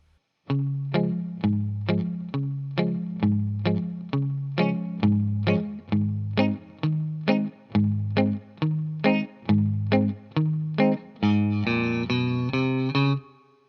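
A guitar plays a bouncy verse melody with an alternating bass and chord pattern, bright and processed with chorus, steady rhythm throughout.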